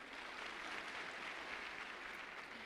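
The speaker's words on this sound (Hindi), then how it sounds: "एक बार उनके लिए जोरदार तालियाँ" Audience applause at a Forever Living Products testimonial event, a steady even wash of clapping throughout, fairly faint and distant, with no talking over it.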